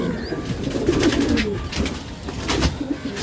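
A Malwai Madrasi pigeon cooing up close, a few soft low throaty coos over faint background noise, with no talking.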